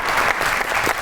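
A studio audience on a Pakistani comedy talk show applauds, a dense burst of clapping filling the short moment at a fairly loud level.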